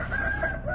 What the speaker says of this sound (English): There. I told you it was a rooster, Captain.